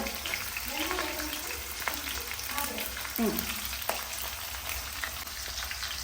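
Ginger and green chillies fry in oil in a pan, giving a steady, close sizzle throughout while people talk over it.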